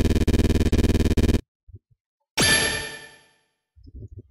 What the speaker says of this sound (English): The phone is resonating with Mataton's presence.